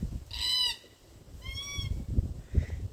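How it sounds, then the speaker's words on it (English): Red-tailed parrots at Mundaring Weir near Perth give two harsh, honking calls about a second apart, fairly close, followed by a fainter third call and some light background rustling. "Red tail parrots."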